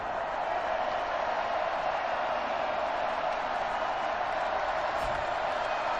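A steady, dense stadium crowd roar fills a simulated Madden 21 NFL game between the Los Angeles Rams and New York Giants, holding at an even, unbroken level throughout with no distinct cheers or claps.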